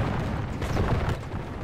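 Cannons firing in the Medieval II Total War battle game, a low rumbling boom with a dull burst of distant artillery over a steady battlefield roar.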